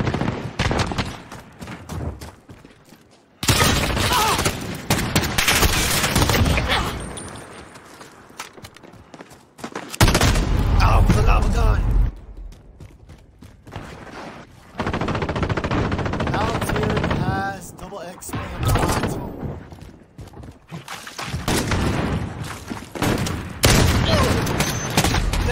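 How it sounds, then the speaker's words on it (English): Automatic machine-gun fire in Call of Duty Warzone, heard as loud bursts and rattling volleys interspersed with booms and game effects over about 25 seconds, with talking mixed in. "I think it was a machine gun."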